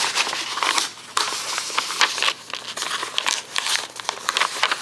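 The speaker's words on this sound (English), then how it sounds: "Let me fold this." A paper colour conversion chart for cross stitch and beading kits being folded, giving close crinkling and rustling with sharp creasing bursts throughout, no talking.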